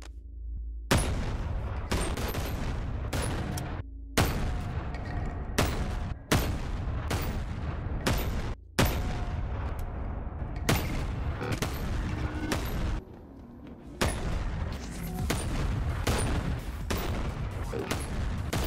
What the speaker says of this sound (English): It's so much easier using a shotgun that you don't have to pump